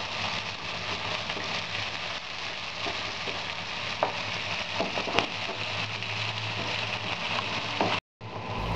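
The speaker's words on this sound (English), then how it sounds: "Saute the onions for a couple of minutes" Chopped onions sauté in a pan while preparing Bihari aloo chokha, giving a steady, even sizzle throughout with a few soft stirring clicks, close and moderately loud, with no talk.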